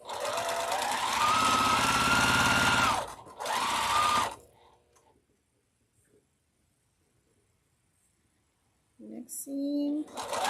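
A sewing machine runs a quilt block seam in two close bursts of fast, steady stitching, then falls silent before a few words are spoken at the end.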